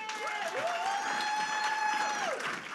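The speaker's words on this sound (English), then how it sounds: "let's just clap for her again" An audience applauds Twinkle Khanna at a book launch, a dense, continuous patter of clapping, with a loud sustained whistle-like tone riding over it for most of the stretch.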